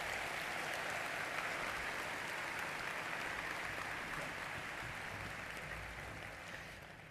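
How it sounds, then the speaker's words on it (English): Sustained applause from a large crowd at a winter university commencement, a broad even roar of clapping that thins slightly toward the end, heard from a distance. "Now, let's give them a round of applause."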